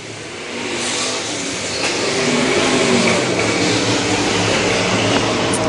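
Street stock race cars roar out of turn four at a dirt oval, engines revving loud and steady as the pack passes close by.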